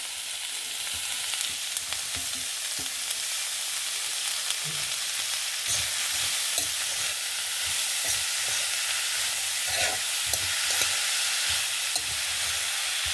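Fresh radish stir-fries in a hot pan, giving a steady, close hiss and sizzle with soft scraping stirs now and then, with no voices.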